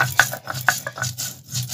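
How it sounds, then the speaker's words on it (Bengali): Cumin is ground into a spice paste for fish curry on a grinding stone, with short rhythmic rubbing and scraping strokes, close and moderately loud, with no talking. "তো বন্ধুরা আমি এখন মাছের ঝোলের জন্য মশলা বেটে নিই।"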